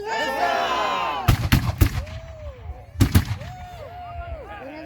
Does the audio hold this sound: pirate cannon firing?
yes